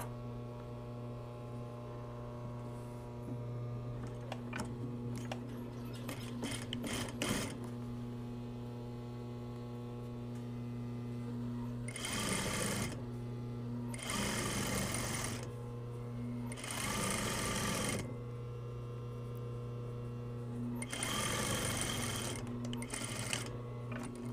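A sewing machine runs in several bursts while stitching the center back seam of a pair of yoke pants, each run loud and close over a steady mains hum, with quieter pauses between runs.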